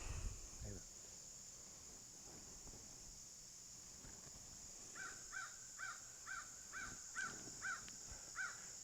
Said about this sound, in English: See, even the crows, they say